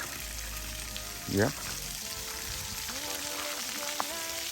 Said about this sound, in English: So actually the water is actually on